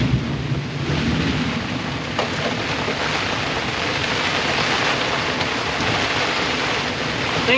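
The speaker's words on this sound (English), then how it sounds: "Big thunder and lightning." Thunder rolls during a storm at sea off the coast of Indonesia, a loud continuous roar of wind, rain and surf with low rumbling throughout.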